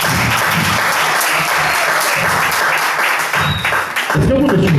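A church congregation applauds during a sermon, with dense, loud, continuous clapping from many hands that briefly dips near the end before surging again.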